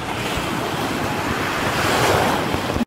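Ocean waves breaking at the beach at Pontal do Atalaia in Arraial do Cabo, a steady close wash of surf with wind buffeting the microphone, loud and continuous throughout.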